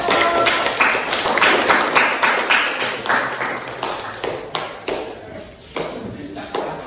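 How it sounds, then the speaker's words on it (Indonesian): A classroom of students applauds group one after an expository text presentation, with a steady burst of close, sharp clapping that gradually thins out toward the end. "Iya, tepuk tangan dulu untuk kelompok 1."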